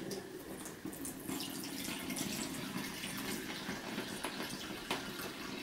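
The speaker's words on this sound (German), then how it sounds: "die muss jetzt hier durch das Sieb mit Küchenkrepp ausgelegt durchgegeben werden" Dark iron gall ink pours steadily through a sieve lined with paper towel, a continuous close trickling and splashing of liquid with no pauses and no voices.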